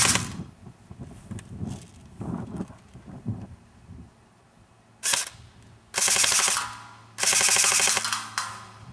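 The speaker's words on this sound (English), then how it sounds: "so it's only firing the burst." Airsoft AEG fitted with a Burst Wizard King Kong, firing short bursts: a few soft clicks early on, then two or three sharp rattling bursts of about a second each, fairly close with quiet gaps between.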